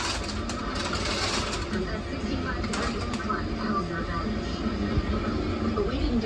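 A grain dryer runs on a farm during corn harvest, a steady mechanical drone and hum in the background beneath people talking nearby.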